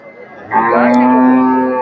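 A local dairy cow at a cattle market lets out one long, loud, close moo that rises and holds, with faint market background before it.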